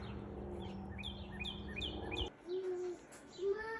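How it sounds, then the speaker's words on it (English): A cardinal sings outdoors under an overcast sky before storms, with clear whistled notes and a few descending slurs, moderately distant over a low background rumble. "It's a cardinal up there."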